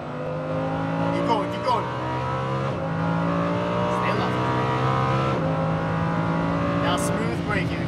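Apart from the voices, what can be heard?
Lamborghini Huracan V10 accelerating on track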